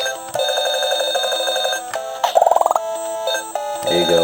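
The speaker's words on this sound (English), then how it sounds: "I'd like to turn off the sound because this ringing is kind of annoying" Electronic beeping tones and chiptune-style ringing from a Tetris LED handheld game device, loud and close, with a rapid burst of stuttering bleeps near the middle and a continuous melody throughout.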